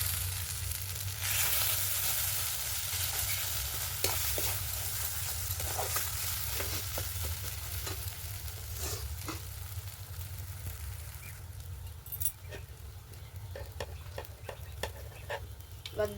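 Ground green pea paste sizzles steadily in a frying pan in a village Bengal kitchen, with a spatula scraping and tapping through the continuous hiss, and no talk.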